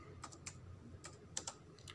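Soft, scattered clicks of typing on a computer keyboard, heard up close over a low hum, with about eight distinct keystrokes in quick succession.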